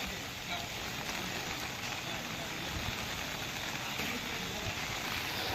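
Steady, dense monsoon downpour in Navsari, Gujarat, during flooding, hissing across all frequencies, constant and loud throughout with no pauses.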